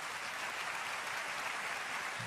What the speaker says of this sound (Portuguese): Gostaria que vocês recebessem com aplauso.